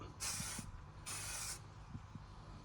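Two bursts of spray paint from a rattle can onto a DIY Harley Benton guitar kit body, each a hissing spray of about half a second, close by, with faint rattles and handling noises between them.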